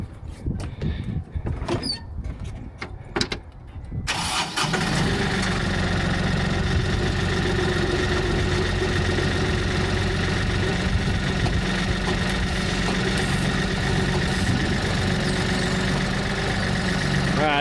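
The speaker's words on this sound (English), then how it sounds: "let's fire the tractor up and see if this thing actually opens and closes" A few clicks and clunks, then a tractor engine starts up and settles into a loud, steady idle, droning continuously with a rough mechanical rumble.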